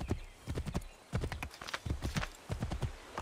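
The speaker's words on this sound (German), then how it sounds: "Okay, das Pferd durchs Wasser." Horse hooves clip-clop in irregular bursts of steady strides in Assassin's Creed III, loud and close with no talk over them.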